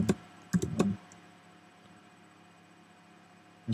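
A few quick keystrokes on a computer keyboard, clustered near the start as a short burst of clicks, then near silence with one more tap at the end, close and quiet.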